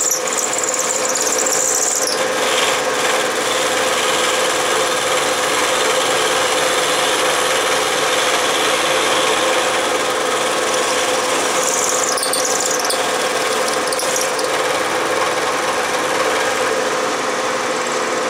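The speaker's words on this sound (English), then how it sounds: "I'm going to widen that just a little more, and then that's all there is to the milling." Metal milling on a Logan lathe while making Stirling engine parts, a continuous loud grinding squeal with steady machine noise throughout and no speech.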